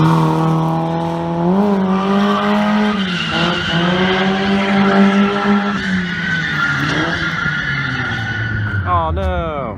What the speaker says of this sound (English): Right behind me, we got DeNofa in that Miata